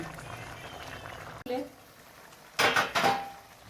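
Mutton curry being stirred and sautéed in a pot, with a sharp metallic clank of a spoon against the pot and short bursts of scraping and sizzling, heard under a voice talking.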